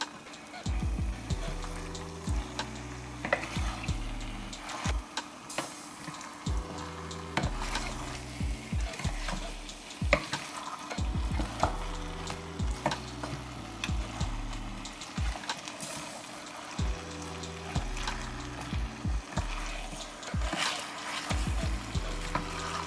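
Chicken leg pieces are stirred with masala in a pan, a steady sizzle of frying under repeated scraping strokes of a spoon against the pan, continuing throughout at close range.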